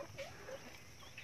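A Brahma chicken clucking softly in a backyard flock, a few faint, quiet clucks over a brief moment.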